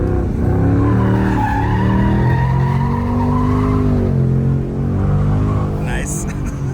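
A Ford Mustang Dark Horse drifts with its tires skidding, a loud sustained squeal sliding in pitch over a strong engine drone for several seconds, close by.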